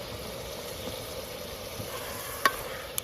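Cut potatoes fry in hot oil with salt for dal puri, giving a steady, even sizzle throughout, with a couple of small clicks of a utensil near the end.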